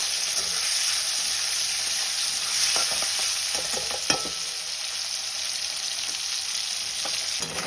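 Tomato masala with salt stir-frying in oil in a pan, a loud continuous sizzle with a few spatula scrapes and one sharp tap midway, close-up and without voices.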